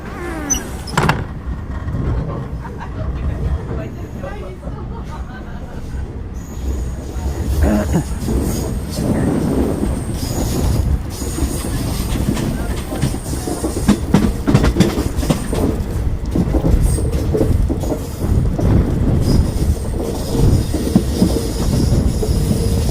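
A steam train on the Cape Town to Elgin line rolls along the rails with a rumbling, rhythmic clatter of wheels and occasional squeals, loud and close throughout.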